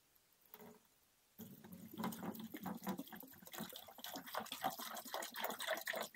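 Water being emptied out of a container, a steady splashing, gurgling pour that starts abruptly after a brief quiet moment and continues loud and close to the end.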